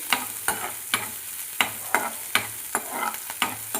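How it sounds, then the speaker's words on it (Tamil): Carrot and onion sautéing in a pan for carrot poriyal, a steady sizzle broken by repeated rhythmic scrapes and stirs of a spatula, close and clear with no talking. "இது ரொம்ப வதக்கணும்ல, ஓரளவுக்கு வந்து ப்ரௌன் கலராக வதங்கினா போதும்."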